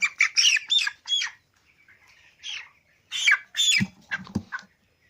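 Young broiler chicks, 17 days old, squawk loudly in sharp, frantic bursts while being weighed, the calls close and shrill with short pauses between flurries.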